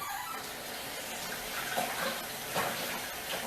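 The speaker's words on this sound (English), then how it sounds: "Let me wash my hands off." Hands being washed under a running kitchen tap, a steady, soft rush of water with faint splashes and slight surges as the hands move through the stream.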